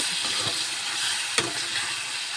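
Mango pickle cooks in a pan on a gas stove while it is stirred, a continuous bubbling sizzle broken by a sharp scrape of the spoon near the middle.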